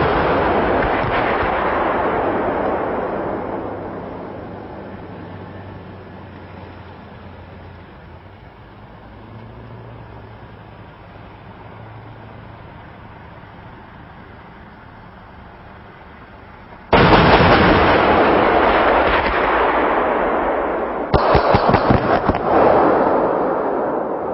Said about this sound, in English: two minibus targets engaged from a moving combat vehicle using high explosive tracer rounds in four-round salvos